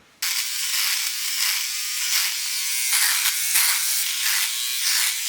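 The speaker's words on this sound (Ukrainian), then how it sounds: "Є ось така от бритва." An electric razor buzzes steadily at close range during a shave, switching on sharply and holding a bright, rattling drone that pulses slightly as it moves across the stubble.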